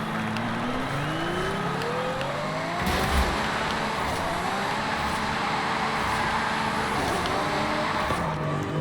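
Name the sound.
2017 Ferrari GTC4Lusso driving in video game Forza Horizon 5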